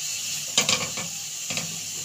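Sliced onions sautéing over low heat in a pan for homemade shawarma, a soft sizzle with two short bursts of stirring and spatula scrapes, quiet in between.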